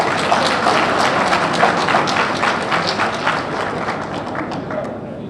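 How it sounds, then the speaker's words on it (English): Applause rolls through a town hall meeting with military and security agencies in Maiduguri, a continuous broad wash of clapping that stays fairly even and gradually eases, with a few sharper claps standing out. "I think he deserves a better round of applause than"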